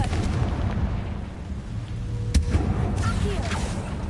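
Confringo fire blast spell exploding in Hogwarts Legacy, a single sharp burst cracking out midway over rumbling ambient game noise, with faint softer impacts trailing after it.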